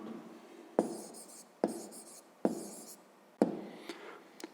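A pen scratches out an answer by hand in a notebook during a maths exercise, in four short bursts of close, quiet scribbling, each starting with a tap, in an otherwise quiet room.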